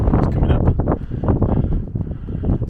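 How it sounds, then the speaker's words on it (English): Strong wind gusts batter the microphone on an exposed hillside above a Scottish loch on the West Highland Way, loud, rough and close, rising and falling in waves. "but it's pretty windy"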